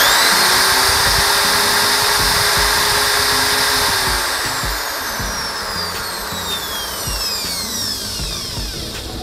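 A Dong Cheng electric drill runs at its highest speed, a loud, steady high-pitched whine close by, easing slightly in pitch and level midway as it keeps spinning.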